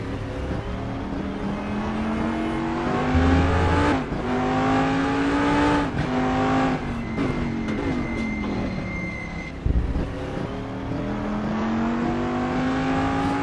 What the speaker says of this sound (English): But you can get a sense of the speed of the P2 here around Daytona in Raceroom.